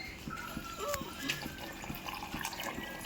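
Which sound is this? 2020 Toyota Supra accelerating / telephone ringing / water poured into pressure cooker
water poured into pressure cooker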